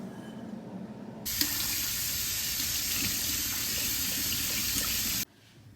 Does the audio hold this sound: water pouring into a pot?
yes